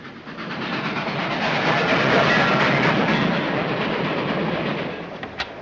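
A 1930s passenger train runs steadily along its rails, giving a continuous rumbling, hissing rush of wheels and carriages that swells slightly and then fades near the end, with no voices over it.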